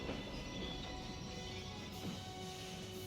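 Moving train in the video game Crisis Core: Final Fantasy VII Reunion, a steady, faint rumbling rattle of wheels and carriage running continuously with no talk.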